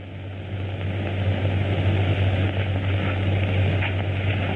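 A steady propeller airplane engine drones as a sound effect in an old radio drama, a constant low hum with a broad rushing overtone, loud and unbroken with no voices.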